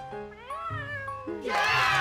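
A cat meows in drawn-out, rising and falling cries, several in a row and close up, before a voice and louder sound take over at the end.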